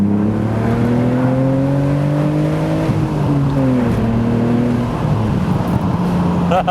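A Porsche Boxster S or BMW Z4 sports car engine pulls hard after a downshift, its note rising steadily, dipping briefly at the gear change, then climbing again, heard close from inside the cabin.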